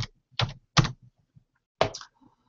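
Keyboard keys tapped on a computer during a live trading session, a few separate bursts of clacking with short pauses between, close and moderately loud, no talking.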